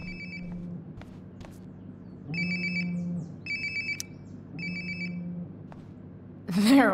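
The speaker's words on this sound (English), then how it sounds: "Sounds like my phone is definitely nearby." A phone rings nearby in the video game Life is Strange: Before the Storm, with repeated electronic trilling bursts and short gaps between them, followed at the end by a voice.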